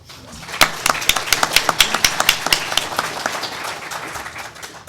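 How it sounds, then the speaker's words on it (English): Audience applause for Joe at a social media and democracy event at MIT, a burst of dense, loud clapping from a crowd that swells quickly and then tapers off. "a round of applause for Joe"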